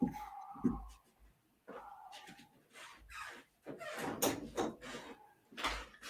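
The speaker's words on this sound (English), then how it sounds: "I got to shut this door because I'm having dog issues." A door being shut in a home, with knocks and thuds from handling the door scattered over a few seconds and quiet gaps between them, fairly faint and close.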